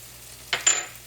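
Onions and garlic frying in a pan, two quick bursts of sizzle as food hits the hot oil and is stirred, close and brief against a quiet background.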